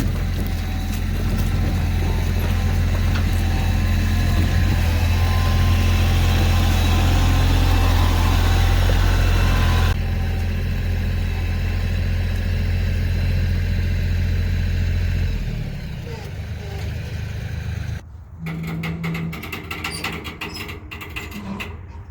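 A tractor engine runs steadily and loudly while backing a trailer into place under a pivoting outfeed, with a deep idling rumble that drops off and thins out toward the end.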